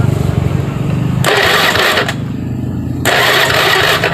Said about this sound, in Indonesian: Kemudian saya tekan starternya.